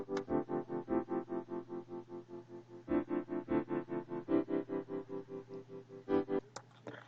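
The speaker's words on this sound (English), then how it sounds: "then I layered another piano that sounds like this." A layered second piano part repeats rapid, evenly pulsing chords in a steady rhythmic pattern, soft and close, with a brief pause midway and a short noisy tail at the end.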